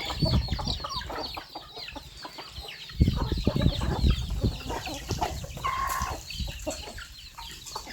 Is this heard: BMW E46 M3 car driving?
no